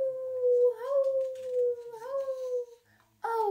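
A voice imitates a big yellow dog howling for a storybook: one long, wavering howl held for nearly three seconds, close and fairly loud, then a short, sharp second burst after a brief pause.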